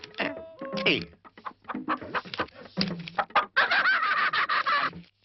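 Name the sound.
chickens clucking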